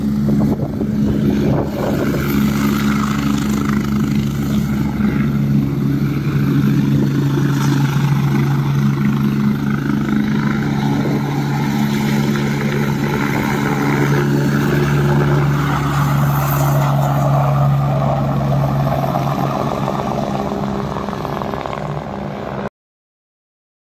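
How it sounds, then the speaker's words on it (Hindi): Tejashwi Yadav's helicopter lifts off the ground at Tarapur with a loud, close, continuous engine and rotor drone that holds steady for about twenty seconds before cutting off, with no talking. "तेजस्वी यादव का जो हेलीकॉप्टर है वो जमीन से ऊपर उठ चुका है"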